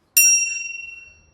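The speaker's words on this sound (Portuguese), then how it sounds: "A gente é recebido por um sino também." A small bell hung at the entrance of a house is struck once, giving a bright ringing tone that decays slowly over about a second, close and clear with no talk over it.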